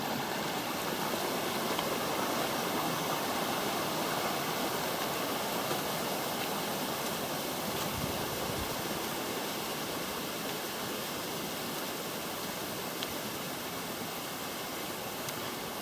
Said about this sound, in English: This is the creek system that leads to the base of Ferry Bow Falls.